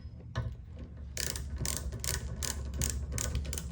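A ratchet tightens bolts on a Light Bee chain kit for a dirt bike, making a quiet, close burst of rapid clicking strokes that repeat in short bursts, with no talk.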